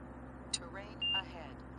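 Short steady warning tone sounds in the cockpit of a small RV-4 aircraft flying with an angle of attack indicator, a brief pure beep lasting a fraction of a second over engine drone and faint talk.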